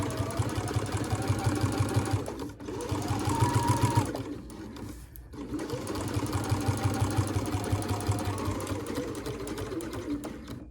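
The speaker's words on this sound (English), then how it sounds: "And then back stitching" A sewing machine stitches a crossbody bag in fast, steady bursts close by, pausing briefly between runs with soft handling sounds, including a short back-stitching run.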